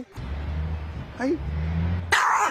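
A dog growls low and steadily, with a brief yelp in the middle and a sharp bark at the end, close by.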